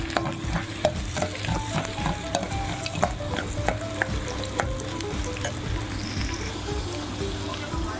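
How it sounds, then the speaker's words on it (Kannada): Onions fry in a pan while being stirred. Close spatula taps and scrapes repeat over a constant crackling sizzle. "ಇವಾಗ ಆನಿಯನ್ ಹಾಕಿದ್ದೀನಿ ಅಲ್ವಾ ಸ್ವಲ್ಪ ನೀಟಾಗಿ ಫ್ರೈ ಆಗಬೇಕು ಆನಿಯನ್ ಎಲ್ಲ"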